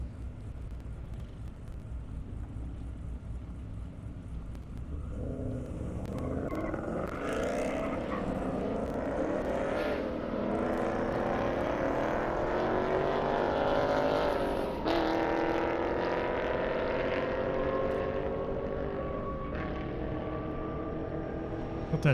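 A Corvette and other cars roll up to the launch pad at an airstrip drag race, engines rising from a low idle into a louder, building rumble with revving and a faint crowd or announcer underneath.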